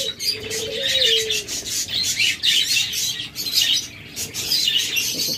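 Caged budgerigars chatter and chirp nonstop in a dense, busy twittering that sits close and fairly loud, with a brief whistled note early on and a constant rustling background.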